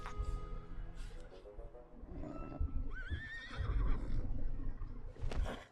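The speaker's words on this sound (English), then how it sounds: "It's a horse." A horse neighs and whinnies in a Kingdom Hearts 3 cutscene, with clip-clop hooves and a rising whinny over soft background music and game sound, fairly close and moderately loud.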